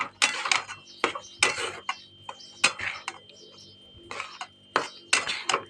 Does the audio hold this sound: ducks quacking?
no